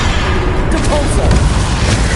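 Depulsor spell cast in Hogwarts Legacy, a dense, booming blast that runs continuously through the short moment amid ongoing battle noise.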